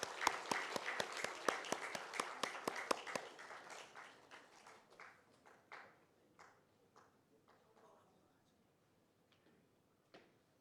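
Church congregation clapping during a Sunday afternoon service as a youth worship team comes forward, a burst of scattered applause that thins and fades over several seconds, fairly quiet and distant.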